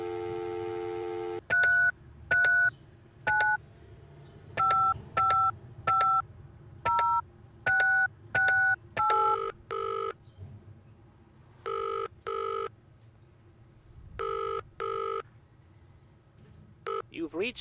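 Phone keypad tones beep in a quick series of dialing presses, then a steady repeating ring or busy pulse cycles several times, all in a Penelope Pendrick: Art of Deceit video game scene.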